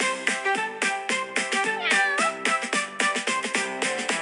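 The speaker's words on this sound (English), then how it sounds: "One little cat felt all alone, so he meowed on the way back home." Cat meows in a bouncy children's nursery rhyme, a run of short, bright, tuneful mews repeating in quick rhythm over the music.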